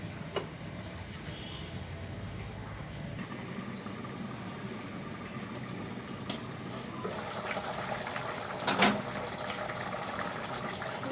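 Jackfruit seed curry simmering in a covered pot, a steady soft bubbling hiss that holds throughout at moderate level, rising slightly near the end with a few brief clinks.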